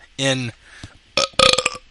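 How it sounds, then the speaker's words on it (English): A loud, drawn-out burp from a podcast host, followed by a brief pause and then a few short, choppy vocal bursts or laughs close to the mic. "that's a good burp for you"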